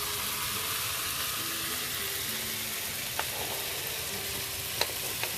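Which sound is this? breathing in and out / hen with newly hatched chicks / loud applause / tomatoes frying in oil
tomatoes frying in oil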